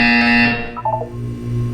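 A loud electronic buzzer from the video game Portal 2 sounds at the start and cuts off, followed by softer low tones and faint chiming.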